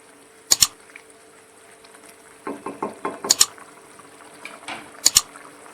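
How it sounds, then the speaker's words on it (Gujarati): A spoon stirs besan pieces into simmering onion gravy in a metal pan, with sharp clinks against the pan and a quick cluster of scraping knocks in between, close and clear. "અને ગ્રેવીમાં સારી રીતે મિક્સ કરીશું."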